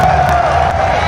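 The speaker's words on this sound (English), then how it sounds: "we want to hear you cheering loud and proud for every single one of these athletes" Crowd noise at a gymnastics competition, the GymACT Beach Blast meet, a steady dense roar of spectators with cheering and a few whoops, loud and continuous for about a second with no clear speech on top.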